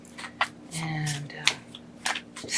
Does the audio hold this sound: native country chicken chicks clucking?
no